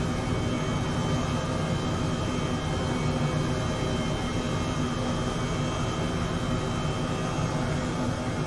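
A steady, even engine drone with a whirring hum, constant and unbroken throughout, from an H135 helicopter in flight in Microsoft Flight Simulator 2020, heard from inside the cabin.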